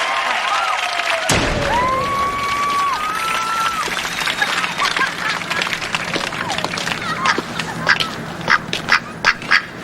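A duck quacking in a sketch-comedy scene, with a whistle-like tonal call and repeated sharp quacks growing louder toward the end, over busy background noise.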